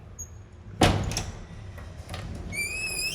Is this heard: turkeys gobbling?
no